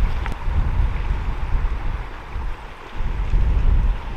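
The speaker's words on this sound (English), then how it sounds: "The wind is terribly bad." Gusty wind buffets the microphone beside a river during fishing, a steady broadband roar that rises and dips in strength, with no voices heard.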